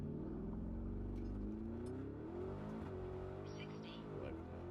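A V8 car engine revs and accelerates, a loud, close, throaty roar that climbs and dips in pitch as it pulls away, with a person's voice faintly mixed in.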